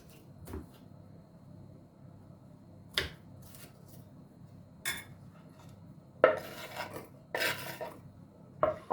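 Capia peppers are cut into fairly large pieces with a knife on a kitchen board for winter storage: sparse, irregular crunchy slicing strokes and scrapes with quiet gaps, growing busier toward the end, close and without talk.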